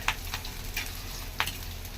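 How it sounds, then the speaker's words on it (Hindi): Leftover rice frying in a pan with chopped tomato and two green chillies, a steady low sizzle with a few soft scraping stirs, close and fairly quiet. "ये चावल फ्राई हो जाएंगे"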